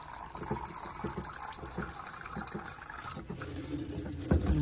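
Water poured into a container of paint to thin it before spraying, a continuous gurgling pour of moderate loudness that ends with a short knock near the end.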